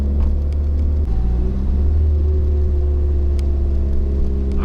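A 2015 Subaru WRX Stage 2 launches from idle on a quarter-mile drag strip, its engine a steady, loud, close rumble and whir that holds near-constant pitch throughout, with a brief dip early on.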